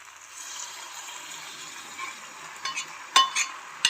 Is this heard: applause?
no